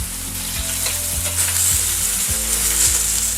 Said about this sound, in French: Voilà, ma viande est bien grillée.